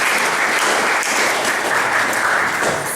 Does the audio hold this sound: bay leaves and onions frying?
no